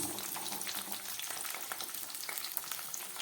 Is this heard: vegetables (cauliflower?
yes